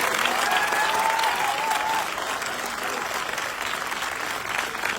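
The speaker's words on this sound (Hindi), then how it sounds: "दिल खोल के ताली बजाएंगे।" Large crowd at a packed health-products rally in Patna claps together, a dense sustained wash of applause that holds steady and eases slightly partway through, with faint whistles near the start.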